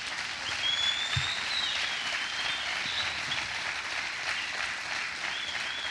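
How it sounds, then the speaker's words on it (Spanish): A congregation applauding during a church sermon, steady dense clapping that sounds like rain, continuing evenly for several seconds at moderate loudness. "Eso merece un aplauso."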